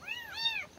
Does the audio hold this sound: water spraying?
no